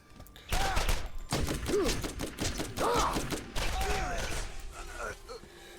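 Gunfire from another player shooting in a video game, sharp repeated shots and thuds in quick clusters, close and loud, mixed with speech.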